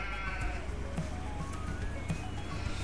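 Sheep bleat repeatedly in the video game Farming Simulator 17, wavering calls over a steady droning game background, moderately loud and continuous.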